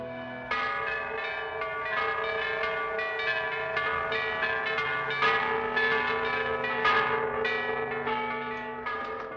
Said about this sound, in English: What are those bells? They toll the hour of marriage.